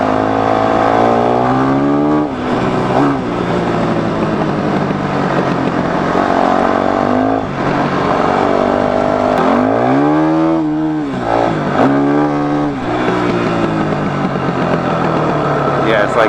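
A motorcycle on a first ride revs and accelerates in rising and falling pitch sweeps, loud and close, with voices talking over the engine throughout.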